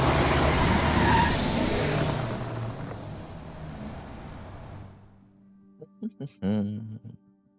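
A car stolen and driven in the video game Road 96, its engine roaring loudly and then fading away over several seconds, followed by brief in-game speech.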